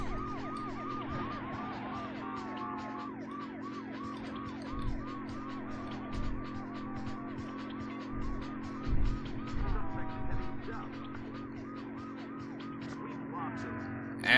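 Police sirens wailing behind a fleeing car during a Las Vegas chase in the PlayStation game Driver 2, repeated rising-falling siren sweeps over a steady engine hum with occasional thumps and collision bumps.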